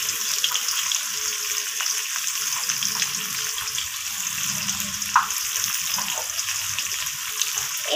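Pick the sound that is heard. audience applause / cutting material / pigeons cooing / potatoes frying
potatoes frying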